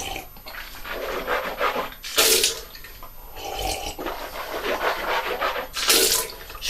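Tap water runs into a sink while someone rinses after brushing their teeth, a near, uneven splashing that surges and eases, with a couple of brief louder gushes.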